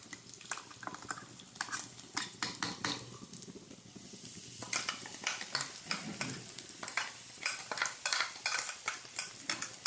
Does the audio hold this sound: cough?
no